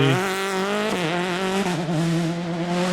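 A loud French rally hot hatch engine revs hard and high, its pitch climbing and shifting through gear changes in a continuous roar.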